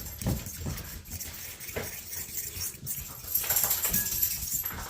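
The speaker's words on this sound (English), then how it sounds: "the dogs are going crazy. They always do when she gets home." Pet dogs in a home kitchen growing excited as their owner comes in, with scattered yips, whines and barks alongside scrabbling claws and clattering over five seconds, fairly close.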